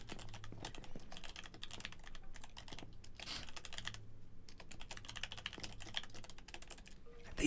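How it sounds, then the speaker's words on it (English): Steady typing on a computer keyboard, rapid clicking keystrokes running continuously at moderate level throughout, with no voices over it. "What's he typing? What's he gonna say?"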